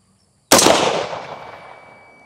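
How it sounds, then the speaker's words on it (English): A single loud gunshot from a PSA Sabre AR-15 rifle, fired outdoors, with a sharp crack followed by a long ringing decay lasting nearly two seconds; no talking. "I'll go ahead and break the shot."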